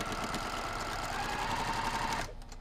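A sewing machine with a quarter inch foot runs steadily, stitching a quilt four patch block, a close continuous motor whir that stops abruptly near the end.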